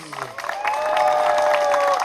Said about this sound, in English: getting the Lobos team applause